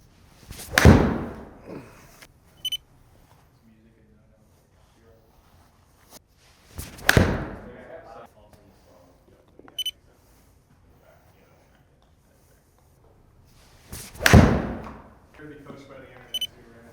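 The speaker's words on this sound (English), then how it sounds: "Here's your 6-iron. Give me about 6, 7, 8 shots." A 6-iron strikes golf balls three times during an iron fitting session, each shot a sharp, loud impact with a short whooshing tail, spaced several seconds apart with quiet stretches and small clicks between.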